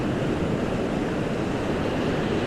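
A waterfall at Glencoe pouring over rock, a loud, steady broadband rush of falling water that stays constant and close throughout.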